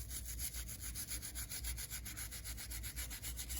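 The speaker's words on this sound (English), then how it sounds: "Give this thing a scrubbing." Corroded electrical contacts on a vintage Ahm 4-wheel diesel model train are scrubbed clean: a steady, close, rapid back-and-forth rubbing rasp that continues without pause.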